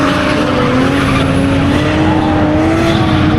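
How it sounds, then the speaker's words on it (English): Cars drifting at night on a Japanese touge mountain course, a loud continuous engine roar with sustained tire squeal and skidding that rises slightly in pitch. "decided to come over here and watch some night drifting on school course"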